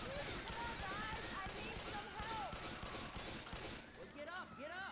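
Rapid bursts of gunfire from the Left 4 Dead 2 video game crackle continuously for several seconds, dense overlapping shots with voices talking underneath.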